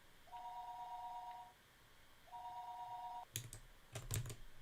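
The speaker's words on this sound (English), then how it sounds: "And now the phone's ringing." A telephone rings in the Higurashi: Himatsubushi visual novel, two long electronic ring tones separated by a short pause, clear and alone, followed by a few quick keyboard clicks.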